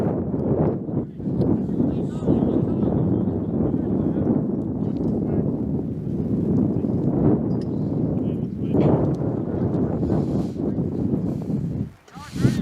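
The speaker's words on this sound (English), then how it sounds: "you're going to keep hearing those wind gusts" Steady wind buffets an outdoor microphone at an amateur soccer match in a national cup game. It makes a loud, continuous low rumble with surging gusts that fill the whole stretch, and it briefly drops out near the end.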